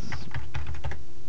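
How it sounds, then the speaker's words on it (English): Several quick keystrokes on a computer keyboard as a password is typed in while connecting to a Raspberry Pi remote desktop, a short clear burst of close clicks with no talk. "So we're going to type in."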